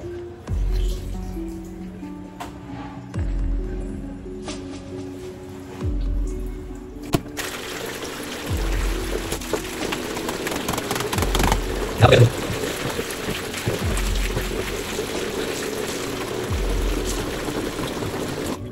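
Clothes washed by hand in water, with repeated rhythmic thuds and sloshing squelches at a steady pace, then a busier stretch of splashing and wringing later on.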